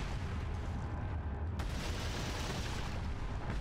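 Handgun fire in the game Resident Evil 4, a sharp shot breaking through a dense, steady wash of game noise and rumble, followed by continuous loud background sound.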